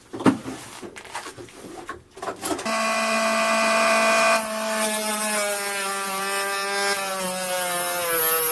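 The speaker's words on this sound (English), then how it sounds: "chop a piece of photoresist board down to the size that you require." A handsaw works through a photoresist PCB board: a few scraping strokes at first, then a sustained, strongly tonal whining rasp as the blade bites steadily into the board, loud and close.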